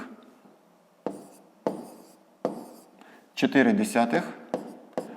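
A pen scratches out handwritten numbers in several short strokes spaced through the passage, close and fairly quiet. A voice speaks over part of the writing.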